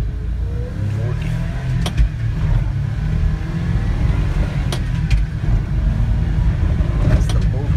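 A 1992 Japanese 4WD mini truck pulls in low gear, its small engine giving a steady, close, loud drone with a few faint clicks and rattles over the top.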